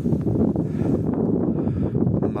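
Strong wind buffets a microphone in an open field on a cold day, a loud, steady low roar with gusty rustling throughout and no clear pauses.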